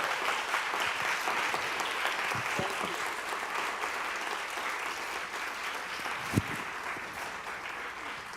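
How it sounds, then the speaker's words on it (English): An audience at the 2022 Dance Teacher Awards ceremony applauds in a sustained, even wash of clapping from a large crowd, heard alone at moderate volume with one louder thump. "And one more round of applause, Francesca Harper."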